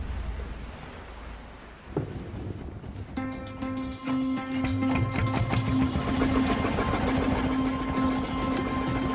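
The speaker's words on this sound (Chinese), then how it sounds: "将空气压缩机和船体发动机相连" An air compressor hooked to a fishing boat's engine starts partway through after a thump and quieter background noise, then runs on as a steady, loud, droning mechanical hum.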